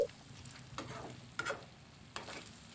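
Bamboo shoot stir-fried with chili and coriander gives a quiet, steady sizzle, broken by several sharp scrapes and clicks of a spatula against the pan.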